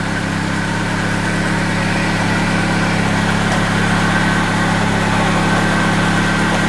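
The engine of a 1973 Triumph Spitfire runs steadily after sitting unused for three years, a loud, close, continuous idle drone with constant vibration and no talk.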